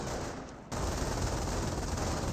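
Gunfire hitting an infantry half-track in the World War II strategy game Company of Heroes: a loud, dense, continuous rattle of shots that jumps in intensity partway through and holds steady, with no voices.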